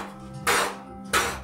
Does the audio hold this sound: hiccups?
no